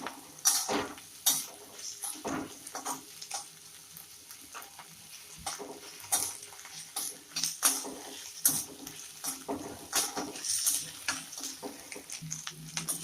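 Garlic and ginger paste fries with onions in a pan for a spiced okra dish, a soft sizzle under irregular sharp clinks and taps of a metal spoon against the pan, close and intermittent, with no speech.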